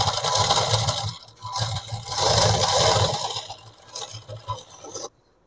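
Sewing machine stitching petticoat cloth runs in close, rattling bursts with brief pauses between them, then stops abruptly.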